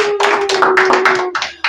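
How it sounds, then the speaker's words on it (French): Clapping hands at a French-language youth leadership training session, a short burst of about a dozen sharp, close claps in an uneven rhythm over a steady tone. "Applaudissez pour moi."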